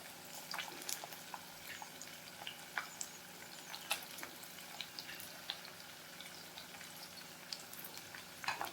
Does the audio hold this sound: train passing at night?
no